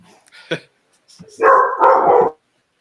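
A human voice imitates a dog's bark, giving two short, nearby woofs in quick succession after a brief breathy lead-in, with no other sound around it.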